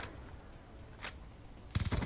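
A weapon fires in the Black Ops 2 video game: two short isolated shots, then a rapid loud automatic burst near the end, over a quiet background.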